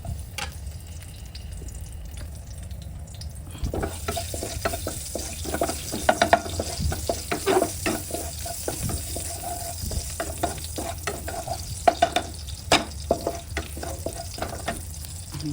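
Garlic in oil crackles and sizzles in a pan, with scattered pops and scraping stirring growing busier after a few seconds, close up.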